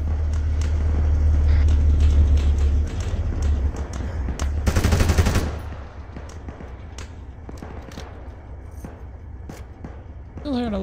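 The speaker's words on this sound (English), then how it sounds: "Still hearing a lot of shots" Gunfire in an Arma 3 urban combat mission in Zargabad, with a dense, loud burst of rapid shots early on, then scattered sharper reports and distant shots continuing under a speaking voice.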